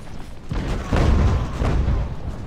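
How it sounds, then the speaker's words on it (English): Artillery booms from two units firing in the naval-era strategy game Ultimate Admiral: Age of Sail, dull heavy thuds rolling one into another over a rumbling battlefield din, moderately loud with no talk. "Got two units of artillery firing now."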